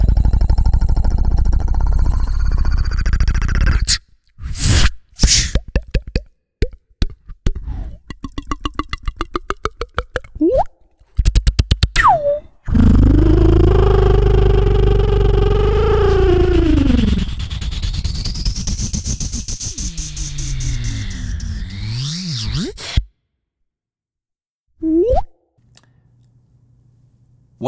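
A human mouth imitating smoothie-commercial foley: a busy run of plops, clicks, taps and liquid-like pops, then a long swelling whoosh and bubbly gurgle like a blender or pour. The sounds are loud and close, with no talking.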